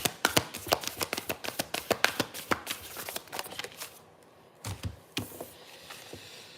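Tarot cards being shuffled by hand during a reading, a quick run of crisp riffling taps close to the microphone, then a brief pause and a few softer card slaps near the end.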